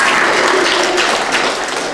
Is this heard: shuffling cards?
no